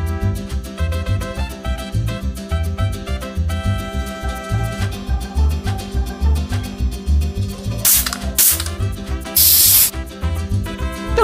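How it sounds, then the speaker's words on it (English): Pepper spray discharged during a road-rage confrontation over tire slashing, heard as three short, sharp hissing bursts late in the clip under loud, rhythmic background music. "Pepper spray, of course."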